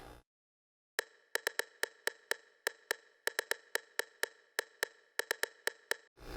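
A rim-shot percussion loop built with Native Instruments sounds, sharp dry clicks in an irregular syncopated rhythm, about two dozen hits over six seconds, clear and upfront with no talking.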